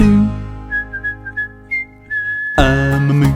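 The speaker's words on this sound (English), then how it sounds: "my lips, they help me whistle, whistle a happy tune" Someone whistles a short, bouncy happy tune in clear separate notes, followed by a sudden burst of louder backing music.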